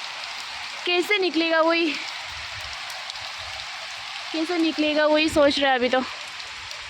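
Heavy rain falls steadily in a village as a constant hiss of drops striking surfaces, with someone talking over it in two short stretches.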